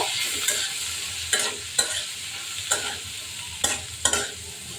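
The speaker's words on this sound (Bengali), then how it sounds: "ভালোভাবে মিশিয়ে নিব।" Turmeric and salt stirred into a sweet pumpkin chutney in a pan, a spoon scraping in about half a dozen distinct strokes, each a short brushy rasp over a low steady sizzle, close by with no talking.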